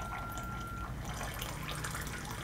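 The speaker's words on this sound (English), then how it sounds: "And that strong motor really pushes the water out." Hot water pushed out by the strong motor of a Rosewill hot water boiler, pouring into a cup as a steady, close liquid stream that runs throughout, with no talking.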